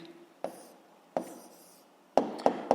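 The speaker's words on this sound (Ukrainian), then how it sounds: "Ну що ж, записуємо відповідь, пишемо відповідь." A pen scratches out the answer to a physics problem in quiet, close strokes, with a few short scribbles and sharper taps toward the end.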